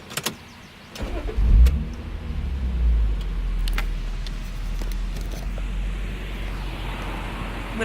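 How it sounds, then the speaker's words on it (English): An MK4 Toyota Supra cranks briefly and fires into a loud start, then settles into a steady low idle rumble, with a few faint mechanical clicks over the running engine. "Just starting this car, getting it ready."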